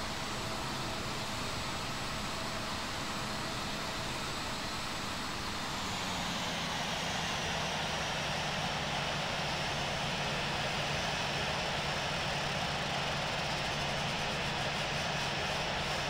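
Airliner jet engines spool up for takeoff in a flight simulator game, a JetBlue jet departing runway 13 right. The roar is loud and continuous, broadband, and builds steadily in pitch and intensity with no talk over it.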